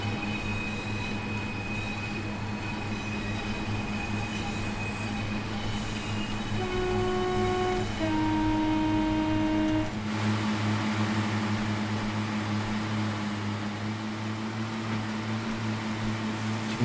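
A BR Class 142 Pacer diesel multiple unit in a train simulator game gives a loud, sustained brake screech of rising tones as it slows into a station, over a steady engine and rail rumble with no talk.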